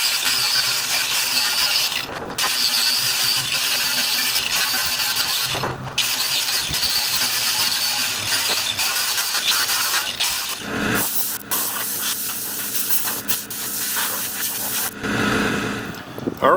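A power tool fitted with a wire brush scrubs rusty metal on a wood trailer, giving a loud, continuous abrasive hiss and whir that runs almost unbroken, with a few brief pauses as the tool lifts off.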